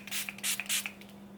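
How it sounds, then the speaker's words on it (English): Nude by Nature Natural Setting Spray is misted onto a face in three quick bursts, short airy hisses close to the microphone with a faint steady hum beneath. "I might just finish up by spraying my face with this Nude by Nature Natural Setting Spray"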